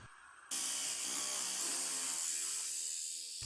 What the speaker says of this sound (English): I put on an extender for the bit, and I'm just going to keep drilling.